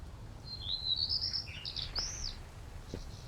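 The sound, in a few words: bird chirping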